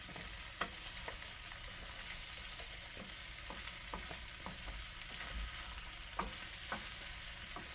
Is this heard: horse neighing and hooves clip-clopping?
no